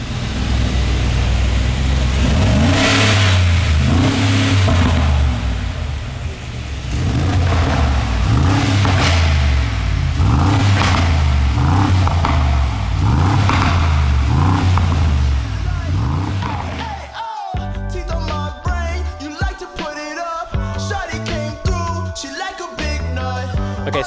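Mercedes-AMG G63 Urban wide body engine revving in repeated surges as it drives, loud and close, with people talking over it; the sound cuts abruptly to a different, busier passage partway through.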